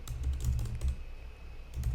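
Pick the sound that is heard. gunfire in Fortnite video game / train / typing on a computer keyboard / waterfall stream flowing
typing on a computer keyboard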